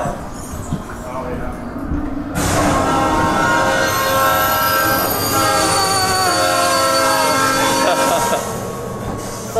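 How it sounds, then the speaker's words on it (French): Metro train effects play through a themed roller coaster queue built like a subway station: a loud rumbling rush with squealing wheels that swells suddenly and holds steady for several seconds before easing off. "on est vraiment dans une plateforme de métro, une station de métro pardon"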